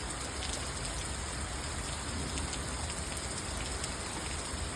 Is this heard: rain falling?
yes